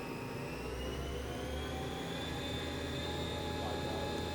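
A Hurco vertical machining center spindle running at 3,500 RPM gives a steady, loud whine with layered high tones that rise slightly over four seconds, alone without talk.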